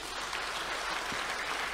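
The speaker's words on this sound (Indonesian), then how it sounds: "tepuk tangan buat beliau" Audience applause for a regent at an Islamic talk, a dense, steady wash of many hands clapping at moderate level, filling the whole stretch without pause.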